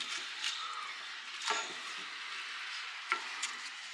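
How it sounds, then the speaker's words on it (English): Beer deglazes a chili pan after the meat has browned, giving a soft, constant sizzle with a few sharp scrapes and knocks of a spoon against the pan bottom. "So we are deglazing the bottom of the pan and getting all of that nice caramelization that happened with the meat."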